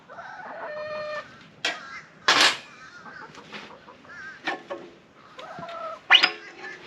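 Chickens cluck and crow near a mini excavator, with repeated bursts of clucking and short squawks at close range over a quiet background.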